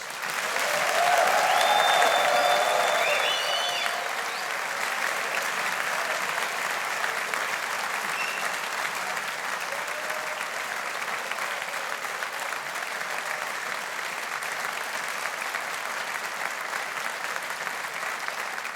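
A large graduation audience applauds the business school class of 2023, a broad wash of clapping that swells loudest early and then settles into a sustained, even roar.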